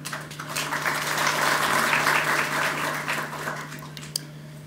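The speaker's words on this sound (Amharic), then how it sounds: "አንድ ቆንጆ የሳምንቱ ምርጥ ጭብጨባ እንድናጨበጭብ ጋብዛለሁ።" A hall audience applauds at an Ethiopian arts tribute gathering, a broad, steady wash of clapping that swells and holds for several seconds before tapering off, with a low constant hum beneath.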